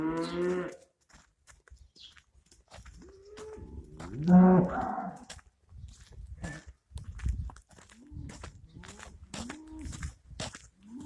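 Cows on a farm moo several times at varying distances, low drawn-out calls spread across the stretch with one louder close moo in the middle, amid soft rustling and footsteps.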